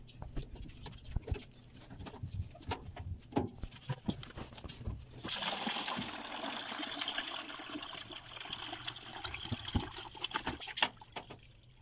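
Water draining from the pump hose of a faulty Maytag washing machine, splashing and pattering with irregular drips at first, then a steadier gushing pour, close and fairly quiet.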